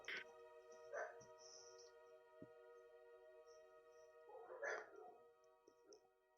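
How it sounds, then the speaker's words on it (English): A puppy barks somewhere off in the distance, a few faint, scattered yips and barks separated by pauses, set against a steady low background hum. "I heard a puppy."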